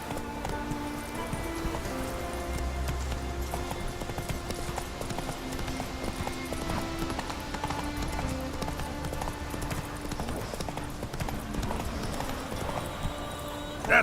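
Roach, a horse in The Witcher 3, gallops with a steady, quick clip-clop of hooves beneath continuous game ambience and music, moderately loud throughout.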